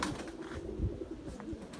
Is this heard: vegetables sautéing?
no